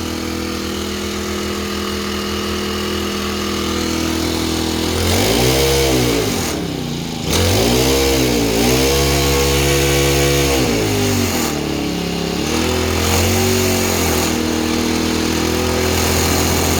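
Small engine on low-cost power equipment driving a gravel screening device, running steadily near the mic with rising and falling revs and a brief dip midway.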